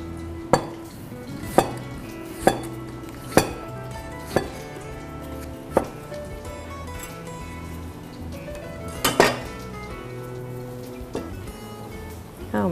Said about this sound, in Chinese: 那爆香我现在先来切这个柳丁